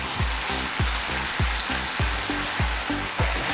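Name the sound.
stirring spicy fish and prawn curry with coconut milk in pan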